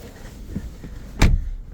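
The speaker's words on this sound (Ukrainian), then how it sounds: "У нас є складання дзеркал і відповідно воно працює" The power-folding side mirrors on a 2018 Seat Leon FR give a short electric whir, followed by a single sharp click as the mirror seats, all heard inside the car.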